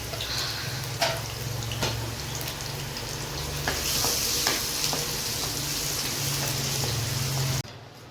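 Chopped ginger and garlic sizzle steadily in hot oil in a pan, a continuous close crackling hiss with a few sharper clicks of stirring, cutting off abruptly near the end.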